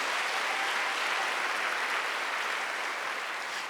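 A church congregation at a Korean Wednesday worship service applauds. The clapping is steady and even, a continuous wash of many hands that holds at one level throughout with no voices heard.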